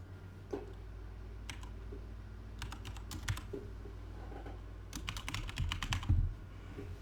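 Quiet clicking of a computer keyboard as a password is typed, irregular short bursts of keystrokes over a low steady hum, no one speaking.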